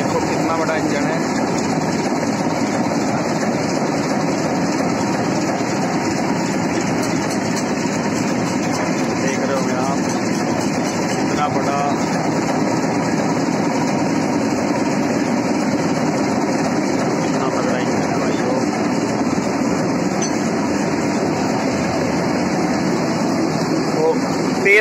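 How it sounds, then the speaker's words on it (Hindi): A large engine driving a sugarcane crusher that processes about 80 quintals of cane an hour drones steadily and loudly throughout, a dense continuous mechanical roar with no pauses. "ये देखो कितना बड़ा इंजन है।"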